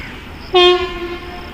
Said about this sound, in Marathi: इथे अनाऊन्समेंट झाले की दिवा पॅसेंजर ट्रेन प्लॅटफॉर्मवरती येत आहे